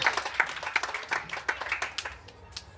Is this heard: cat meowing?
no